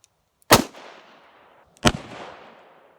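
Two loud, sharp blasts from a Taurus Public Defender Poly revolver firing .410 shells loaded with number 6 shot at a target five yards away, spaced about a second and a half apart, each trailing off in a brief echoing decay.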